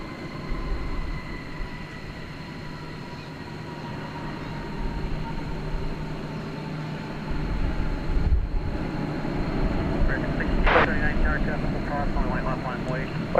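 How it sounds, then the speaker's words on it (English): Frontier Airlines Airbus A321neo jet taking off from DFW Airport at night, a steady broad engine roar that swells gradually from mid-distance and holds loud throughout, with some talk and a brief radio-like chirp over it. "Taking off there, Frontier Flight 4069 to Denver, Colorado. An Airbus A321 Neo."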